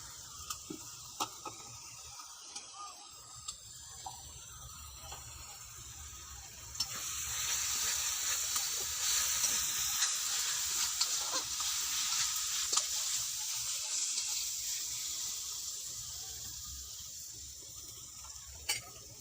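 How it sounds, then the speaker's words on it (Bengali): Steady sizzling of spice paste with turmeric frying in oil until the oil separates, growing louder and denser midway, with occasional scraping clinks of a utensil stirring. "মশলাটা আমার ভাজা হয়ে গেছে, মশলা থেকে তেল ছেড়ে দিয়েছে"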